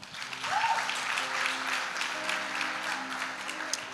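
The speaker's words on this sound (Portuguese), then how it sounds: "Vamos aplaudir Tiagão aí." An audience at an evening church service applauds together, a dense, steady burst of clapping sustained for several seconds with faint voices mixed in.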